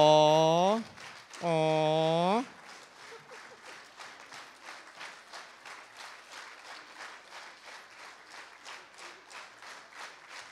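Audience at a 2017 church concert applauds warmly after the performer, steady even clapping that runs on after a loud spoken introduction over the PA at the start.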